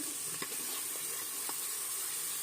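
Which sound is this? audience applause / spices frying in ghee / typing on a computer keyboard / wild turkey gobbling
spices frying in ghee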